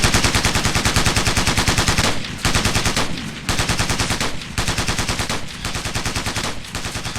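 Sustained automatic gunfire from a Ghost Recon Navy SEALs training exercise, loud dense bursts of rapid shots repeating with brief pauses between volleys, no talking.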